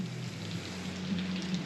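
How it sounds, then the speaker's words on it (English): Steady rain falls in wet, soggy weather, a continuous close hiss of drops on a surface with puddle spatter, fairly quiet and unbroken, with no voices. "But it is still raining"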